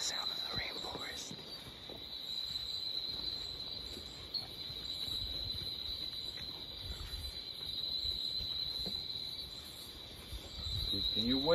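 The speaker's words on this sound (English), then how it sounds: "just listen to the sound of the rainforest" Insects shrill steadily in a high continuous drone over a soft, busy Costa Rican cloud forest background, with faint rustles and occasional low sounds.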